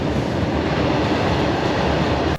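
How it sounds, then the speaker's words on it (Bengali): A freight train passes a railway crossing at close range, a loud continuous rumble and rattle of wagons that fills the whole stretch without pause. "এখন মালগাড়ি অনেক টাইম লাগবে এটা পার হতে"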